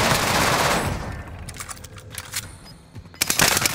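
Rapid automatic gunfire in Warzone, loud and close, with bursts of shots at the start and again near the end and sparser pops between.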